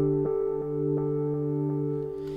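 A sustained synthesizer chord of root, fourth and fifth with the root doubled an octave lower, played in a progressive house production, holding steadily with soft rhythmic pulses retriggering it about every third of a second.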